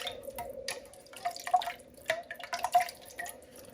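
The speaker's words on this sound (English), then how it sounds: "I'm just going to put about half a cup of water in here just to clean the can up" Water poured from a can into a simmering pot of baked ziti sauce to rinse out the leftover tomato sauce, heard as quiet, uneven dripping and trickling splashes with no talk over it.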